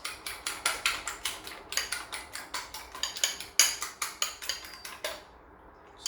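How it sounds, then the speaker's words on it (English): Eggs beaten with a fork in a bowl, a fast run of sharp, regular metallic clicks and taps close by, continuing steadily for several seconds before stopping briefly. "Just use a fork and beat your eggs."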